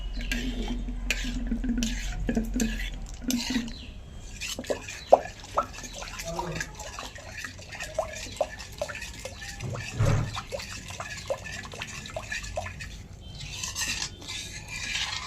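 Yogurt being stirred into milk for sweet curd, soft liquid swishing and intermittent spoon clinks against the pot over a long stretch, with faint background noise.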